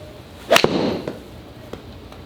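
A golf club strikes a ball on a tight draw shot with one sharp, loud crack, followed by a short, fading whoosh and a couple of faint later clicks.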